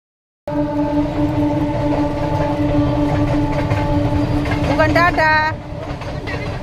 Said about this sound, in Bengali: ওটা ট্রেন যাচ্ছে